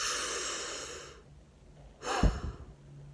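A man imitates a deep breathing technique, giving a long, steady forceful exhale that fades out, then after a short pause a sharp, loud inhale or snort, close to the mic with no speech.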